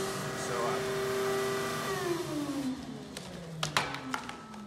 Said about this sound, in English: one of the great things about the vacuum sucks everything down.